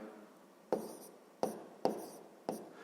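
A pen writing numbers on paper during a sixth-grade maths exercise, with four sharp, close taps or strokes spaced about a second apart over a quiet background.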